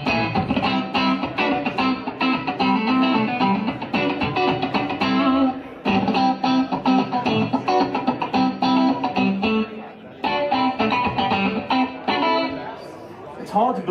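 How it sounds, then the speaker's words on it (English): Electric guitar using a Line 6 Variax digital model of a 1959 Fender Standard Stratocaster, heard at a NAMM 2015 demo, playing dense, busy continuous riffing with a bright bite and two short pauses near six and ten seconds. "so a 1959 Fender Standard Strat."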